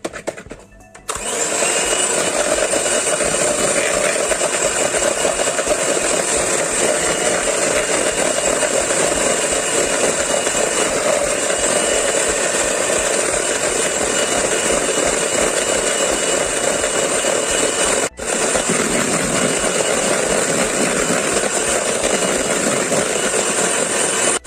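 An electric mixer beats powdered sugar and eggs for red velvet cupcakes, a loud, steady whirring drone running almost unbroken with one brief dip near the end.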